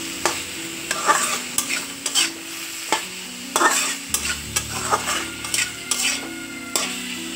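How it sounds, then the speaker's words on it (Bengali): Potatoes and eggplant fry with spice paste and turmeric as a spoon stirs them steadily, each stroke a rhythmic scrape over a constant close sizzle, with no one speaking. "এখন একটু হলুদ গুঁড়ো দিয়ে দেবো, সাথে আলু আর বেগুনগুলি ঢেলে দেবো। তারপর একটু নেড়ে চেড়ে"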